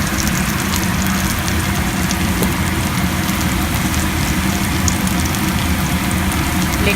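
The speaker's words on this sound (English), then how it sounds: "Let it fry for a few seconds and then I will show." Vegetables frying in an aluminum pan with ginger garlic paste for Hyderabadi vegetable pulao, a steady, dense sizzle that runs unbroken and fairly loud throughout, with no talk.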